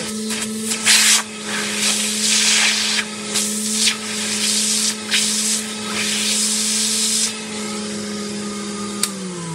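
A vintage 1939 Rexair Rainbow Model B vacuum cleaner runs with a steady, close, droning hum, with bursts of rushing air and rubbing as the hose moves.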